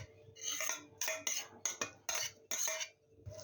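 A utensil scrapes and clinks against a bowl while mixing a homemade hamburger meat mixture with soy and no egg or breadcrumbs, in quick close bursts separated by short pauses.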